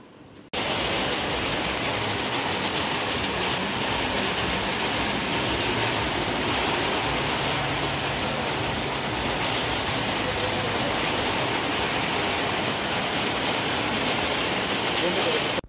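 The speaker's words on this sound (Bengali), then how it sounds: "বাইরে ঝমঝম করে বৃষ্টি হচ্ছে" Heavy rain pours steadily outdoors, making a dense, unbroken roar of water that runs unchanged throughout.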